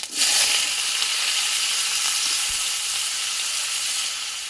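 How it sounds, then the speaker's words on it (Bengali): Cut raw green plantain pieces fry in hot mustard oil with panch phoron and slit green chillies, giving a loud, steady, close sizzle that runs throughout and eases slightly at the end. "আর দেবো কেটে রাখা কাঁচকলাগুলো"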